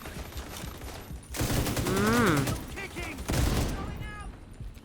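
Rapid gunfire in the video game The Division 2, bursts of close automatic shooting with a loud sustained stretch in the middle, mixed with game effects and someone talking over it.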